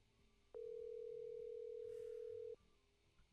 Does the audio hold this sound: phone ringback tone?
yes